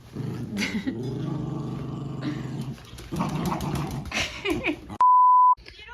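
Puppies playing on a skirt in a home, rough play growls and yips that come in bursts, close and fairly loud, with a sharp electronic beep near the end.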